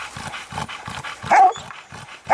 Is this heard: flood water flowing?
no